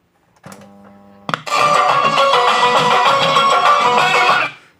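A Philips RR 400 tape recorder plays back audio loudly and clearly: a short tone at first, then a burst into full, dense sound that runs steadily before fading out.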